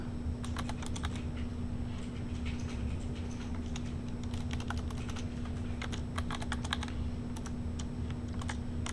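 Steady typing on a computer keyboard while coding a React form, irregular clusters of close key clicks over a constant low hum, with no talking.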